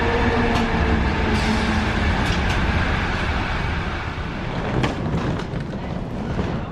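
An airport train arrives at JFK Terminal 4 with a loud, steady rumble of wheels on rail and a few squeals and clicks, while an announcement voice plays over the noise.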